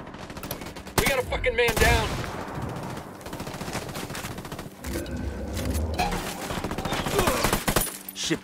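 Gunfire bursts in the Ghost Recon Wildlands video game, near an airstrip with a sniper shooting, crack after crack in fast volleys over busy game noise, with a voice shouting amid the shots.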